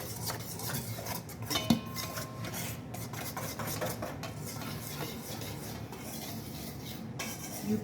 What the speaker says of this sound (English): Last whisk here.